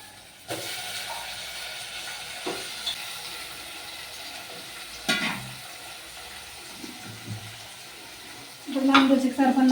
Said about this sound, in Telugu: వంకాయలు వేసుకుందాం.